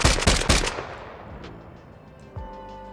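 A machine gun burst made with the Krotos Weaponiser sound design plugin fires a few rapid, loud shots that ring out into a long, fading echo, with a faint mechanical click near the end.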